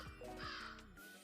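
A crow flying near a McDonald's in Karachi gives a single harsh, close caw over low background noise.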